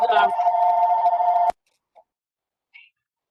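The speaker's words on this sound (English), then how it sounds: "somebody's phone is ringing." A phone rings during an online Bible study call: one steady ringing tone that cuts off abruptly after about a second and a half, followed by two faint short blips in silence.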